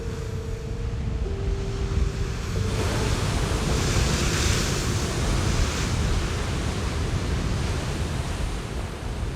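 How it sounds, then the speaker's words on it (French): Ocean waves break continuously at Hossegor, a steady loud roar of surf with wind rushing across the microphone and no voices. "face aux vagues de l'océan"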